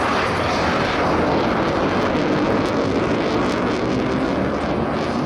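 A twin-engine Eurofighter jet fighter at the Jesolo Air Show 2022 produces a loud, continuous broadband jet roar that stays steady and dense for several seconds.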